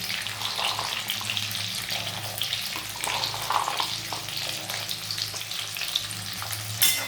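Green beans and peas fry with whole spices, cashews and raisins in a pan, crackling and sizzling steadily while a spoon stirs them.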